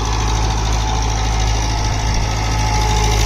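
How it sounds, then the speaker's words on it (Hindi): A Massey Ferguson 60HP tractor engine runs loud and close at a constant steady pitch, a continuous diesel drone with a faint knocking texture and no voices over it. "देखो तनक भी इंजन दाब नहीं मानता इसका"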